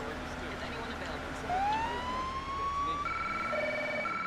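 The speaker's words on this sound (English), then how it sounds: "please don't pull over for the police car with its lights and sirens on" A police car siren wails in the Police Simulator: Patrol Officers game, rising in a sweep and then holding a steady tone, moderately loud over constant background noise.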